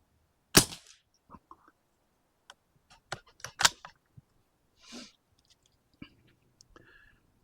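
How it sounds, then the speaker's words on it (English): Rifle gunshot through a small moderator, a sharp rimfire-like crack, stands out near the start, followed by quieter clicks and handling knocks of the gun. "that little moderator that was on there, it almost had a rimfire crack."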